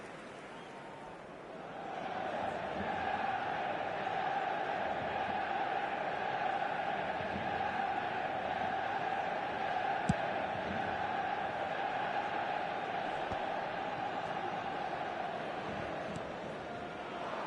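Stadium crowd noise from the eFootball 2026 video game: a steady, continuous roar of many voices filling the whole stretch, rising after a quieter first two seconds and holding level with a brief sharp blip midway.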